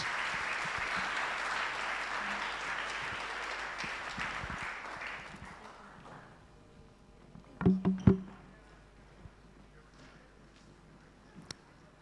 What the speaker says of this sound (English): Shall we just clap for them as they take their seats?